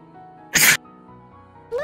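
A single sharp sneeze bursts out loudly and close at hand in the middle of a quiet stretch, and a brief vocal sound follows right after it.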